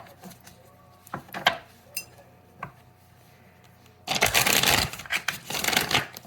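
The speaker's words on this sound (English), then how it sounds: "Let's do 3 more shuffles and get to it" Tarot cards are shuffled by hand: a few sparse riffles and taps at first, then a loud, dense burst of rapid card riffling close to the listener near the end, with no voices.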